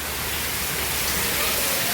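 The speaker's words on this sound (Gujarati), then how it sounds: "કારણ કે બહાર બહુ જ વરસાદ છે આજ તો ભારે" Heavy rain falls steadily over a village house, a loud unbroken wash of drops drumming on surfaces, with no voices.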